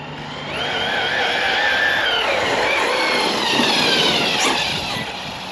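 A Redcat Machete RC car fitted with high-speed gearing and a locked differential rips past with a rising, whining electric motor that swells loudly close by, then fades slightly toward the end, with no talk.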